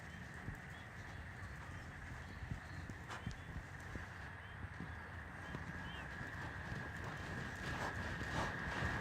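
A horse being lunged in a circle produces faint, distant, irregular hoof clip-clops on the ground, with birds calling in the background.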